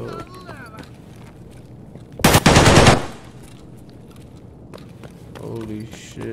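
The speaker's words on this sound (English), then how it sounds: "The amount of people shooting is actually insane." Several players trade gunfire in Escape from Tarkov, including a dense, loud burst of rapid automatic fire, with scattered footsteps, softer distant shots and people talking around it.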